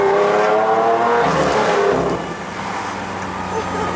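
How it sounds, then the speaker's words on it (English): Lamborghini Aventador V12 revving loudly nearby with a high, strained engine whine that climbs and then drops off into a lower, steadier drone as the car moves away. "Number one reason to buy an Aventador is the sound."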